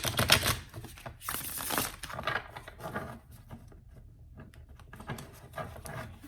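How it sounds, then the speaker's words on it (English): Large tarot cards of the Sacred Circle deck being shuffled, a close papery riffling patter with a louder burst at the start, then softer irregular flicking and sliding. "just want to give it a couple of quick shuffles again"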